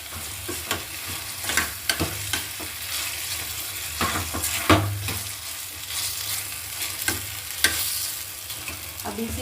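Spices frying for dal in a pan, a steady close sizzle with repeated stirring scrapes and small clinks running throughout, no voices.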